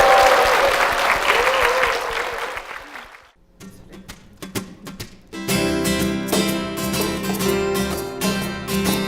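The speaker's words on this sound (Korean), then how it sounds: "두 분께 축복의 박수 부탁드립니다." Church congregation applauding loudly for two performers, clapping fading after a few seconds before instrumental music starts and builds.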